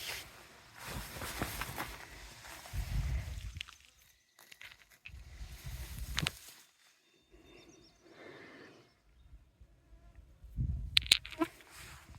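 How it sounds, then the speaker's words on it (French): Flies buzz outdoors around porous rock near Rochebaucourt, an area thick with mosquitoes, with soft intermittent humming that swells and fades in bursts over a quiet background. "Vous entendez les mouches?"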